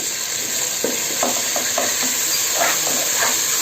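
Tomatoes, mint and coriander saute in a pan with ginger-garlic paste for prawn biryani, giving a steady sizzling hiss broken by several soft stirring scrapes.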